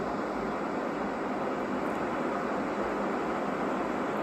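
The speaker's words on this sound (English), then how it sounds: "White noise. That's what it is." An office sound masking system gives off steady, unbroken white noise, a flat, even hiss at moderate level with no talk or other sounds.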